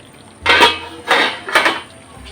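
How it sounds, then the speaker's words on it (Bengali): A lid is lifted off a cooking pan in which pointed gourd is simmering, giving three short metallic clatters close by, with no one talking. "ঢাকনাটা খুলে দিচ্ছি"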